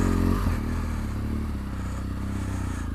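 Motorcycle riding on a wide road in Myanmar during a long-distance tour, a steady low engine drone with wind rush and faint rattle, continuous and close throughout.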